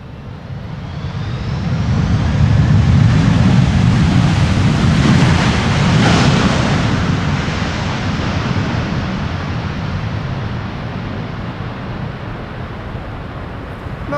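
Airliner thrust reversers roar during a crosswind landing at Schiphol airport, a broad steady rush that swells over the first seconds and then slowly fades, mixed with heavy wind buffeting on the microphone, no talking.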